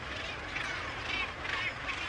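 A northern gannet nesting colony of tens of thousands of seabirds on the Newfoundland cape shore keeps up a dense, continuous chorus of harsh, overlapping croaks and grating calls, steady and fairly loud throughout.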